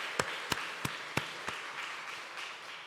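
Church congregation clapping in a slow, sparse rhythm, five or six distinct claps that fade into a low room murmur.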